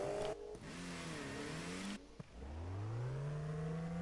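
A car engine revs up, drops briefly, then climbs into a steady rising drone, loud and close, with no voices.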